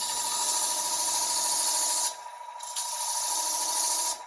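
A wooden biscuit cutter being hand-sanded with 120 grit sandpaper, a steady close rasping hiss that drops out briefly twice between strokes.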